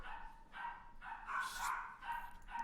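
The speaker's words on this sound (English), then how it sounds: "Sorry for the dogs barking in the background." Several dogs bark in the background in repeated bursts, fairly faint and distant, with no one speaking.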